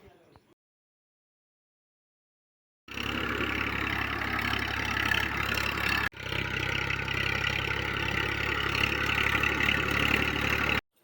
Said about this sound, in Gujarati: તો મિત્રો ટ્રેક્ટર શેડવા આવી ગયું હતું ને આપણા કાકાએ શેડવાનું કામકાજ ચાલુ કરી દીધું હતું